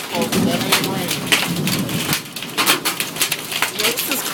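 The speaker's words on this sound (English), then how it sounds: "You hear it hitting the awning?" Summer hailstones pelt an awning in a dense, crackling patter with sharper hits scattered through it, loud and close, over the wash of a heavy storm.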